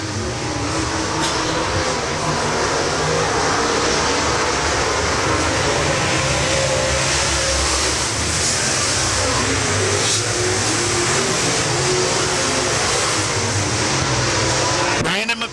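Late model race cars lapping Springfield Raceway, a dense continuous roar of several engines on the dirt oval with a public-address announcer talking over it.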